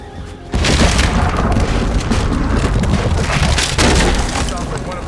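A dynamite blast in the video game Red Dead Redemption 2: a loud, sudden boom that fills the whole range and rolls on as sustained rumbling debris noise, with a second surge near the end and some voices in the mix.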